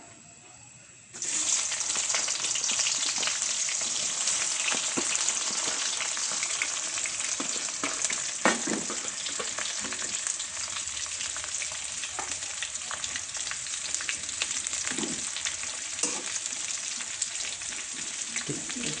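Onions sizzle and fry in a pan with whole cardamom, cinnamon and peppercorns for a chicken dish, a loud steady hiss that starts abruptly and carries on unbroken with occasional stirring clatters.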